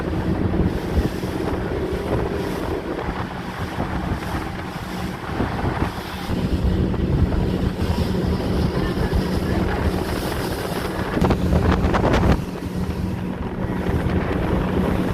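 Speedboat racing fast across open sea between Maldives islands, with a steady loud roar of engine, rushing water and heavy wind buffeting the microphone throughout, briefly surging louder near the end.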